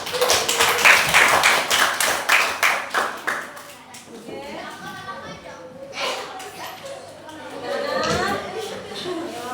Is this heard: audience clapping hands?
yes